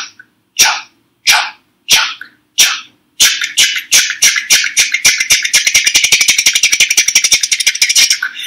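A voice imitates train wheels getting going on the track: a few slow, separate breathy chuffs that speed up into a rapid, steady chugging rhythm, loud and close, with no other sound.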